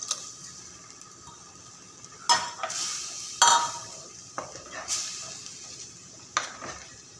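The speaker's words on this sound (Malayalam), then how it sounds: "പിന്നെ നമ്മൾ എടുത്തു വെച്ചിരിക്കുന്ന ആ പുളിയും വെള്ളവും രണ്ടും കൂടെ ആഡ് ചെയ്യുവാണ്." Tamarind water poured into a pan of red pomfret fish curry, with soft splashing and sizzling broken by a few sharp clinks of utensil against the pan, no talk.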